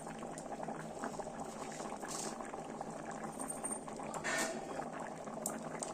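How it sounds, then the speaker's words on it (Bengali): Chana masala curry broth bubbling on the stove, a faint, continuous simmer of small pops and gurgles throughout. "এই ঝোলটা ফুটে যাওয়ার পর আমরা পরিমাণ মতো সামান্য চিনি দেবো।"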